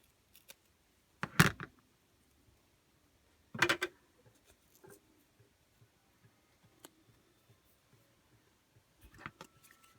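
Scissors snipping a paper tag in a few separate short cuts, crisp and close in an otherwise quiet room with faint ticks between.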